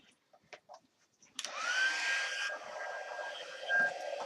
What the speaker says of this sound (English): when I'm using my heat tool, I kind of like to give it a second to warm up